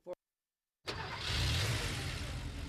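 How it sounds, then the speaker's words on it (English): A car engine turns over after a brief silence, then runs steadily with a full, rumbling drone that swells slightly and holds. "That's the sound of an engine running on the strength of Castrol Edge."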